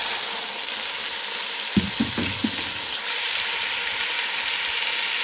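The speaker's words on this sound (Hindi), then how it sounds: "और हम इसको अच्छी तरह से भून लेंगे।" Tomatoes frying in a pot for beef yakhni pulao, a steady broadband sizzle throughout with a brief cluster of low stirring knocks and scrapes near the middle, close and moderately loud with no talking.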